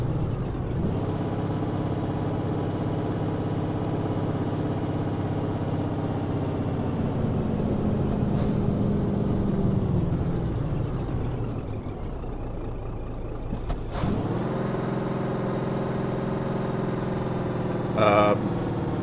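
Truck engine in Euro Truck Simulator 2 droning and labouring at high revs after too low a downshift, a steady harmonic whine that sags, drops out, then surges back with a hiss of air near the end.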